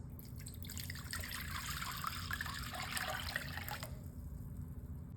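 Water pours into a large mixing bowl holding a stick of butter, a close, steady splashing gush that runs for about four seconds before cutting off, over a low background hum, with no talking.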